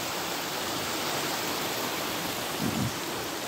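A muddy stream swollen after rain near Arapgir, Malatya, rushes steadily as a continuous broadband wash, with a brief low thump near the end.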